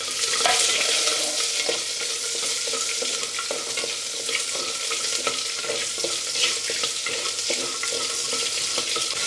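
Halved shallots hit hot oil with mustard seeds and curry leaves, giving a loud, steady crackling sizzle with bursts of spattering and faint stirring, close up and continuous with no talking.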